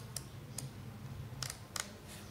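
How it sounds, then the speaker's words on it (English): Sharp dry clicks from the shutter speed dial being turned on a Nikon D3500 camera, five separate detents spaced unevenly across a couple of seconds over a low steady hum. "Use this dial to change the shutter speed."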